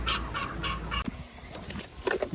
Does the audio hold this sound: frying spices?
no